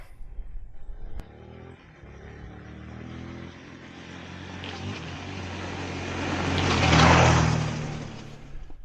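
A Beta Alp motorcycle rides fast over bumps, its engine droning steadily and swelling louder toward the end, mixed with wind rush and the thumps of the suspension.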